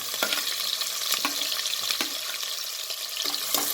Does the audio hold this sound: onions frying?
yes